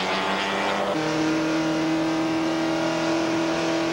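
A Porsche 944 race car from the 1986 Canadian Rothmans Porsche 944 series roars steadily on a racetrack, its engine holding a loud, sustained note that steps up in pitch about a second in and stays high without pause.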